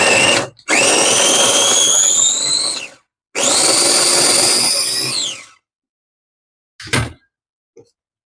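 An electric mixer grinder mashing onion and tomato whirs loudly in two long bursts of several seconds each, then gives a short final pulse, with no talk.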